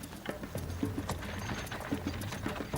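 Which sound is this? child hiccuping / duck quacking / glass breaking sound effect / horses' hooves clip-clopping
horses' hooves clip-clopping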